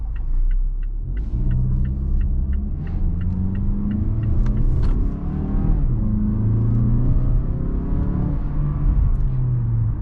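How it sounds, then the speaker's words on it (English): A 2020 Mazda CX-5 GT with a 2.5-liter four-cylinder accelerating hard in sport mode, engine drone climbing steadily in pitch through gear shifts, loud and close from inside the cabin, with faint ticking early on and no speech. "see just how fast we can get up to speed in sport mode"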